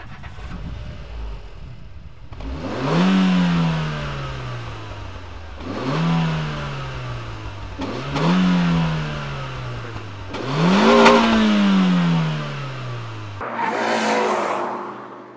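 Renault Twingo RS Gordini hot hatch revved through its exhaust, loud and close: four or five rising revs that climb and drop back, with a steady idle at the start and a brighter burst at the end, no talking.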